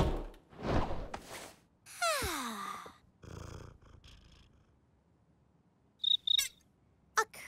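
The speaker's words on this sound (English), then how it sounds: "A cricket?" Cartoon cricket chirping at night: short, sharp high-pitched chirps in a quick pair, then one more, following a stretch of varied cartoon noises and quiet.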